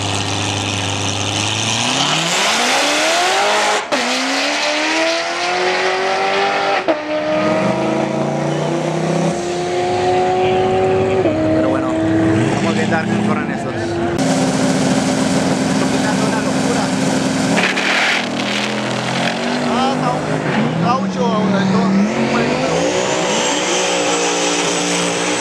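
A dragster and other cars race at a speedway: loud engines roar and climb in pitch through hard accelerations, with several runs one after another and voices faintly underneath.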